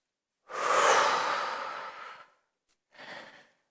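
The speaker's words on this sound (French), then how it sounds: "de prendre une grande respiration" A single deep breath taken during a short anti-stress breathing exercise: a long, loud, breathy inhale or exhale lasting nearly two seconds, a tiny click, then a shorter, softer breath, close and alone with no talk.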